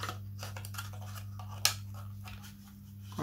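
A single cutting pass through material for an autogyro build, a brief crisp snip near the middle over a steady low background hum, with no talking.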